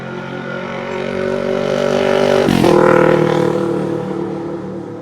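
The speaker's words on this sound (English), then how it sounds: "we had a dude on a little green moped, so we'll let him go by" A small green moped motors past in a quiet garden, its engine hum swelling as it nears, peaking with a sharp pitch drop as it passes close by, then fading away steadily.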